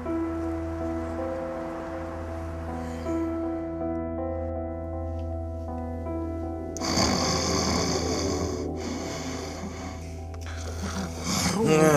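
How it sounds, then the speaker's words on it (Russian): A man snores in bed in a Russian drama scene, a steady low rasping breath for several seconds, then a louder, rougher burst of noise takes over near the end. "ну храпишь так, что заснуть не могу"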